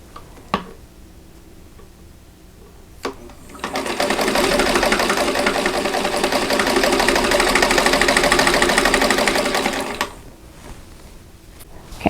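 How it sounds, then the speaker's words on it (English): A sewing machine stitches a quilt block along a marked line, running steadily for about six seconds with a dense mechanical whir. Quieter clicks and handling sounds come before and after the run. "I'm going to sew on that line"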